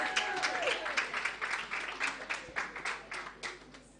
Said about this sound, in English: A round of applause, a round of applause, a round of applause.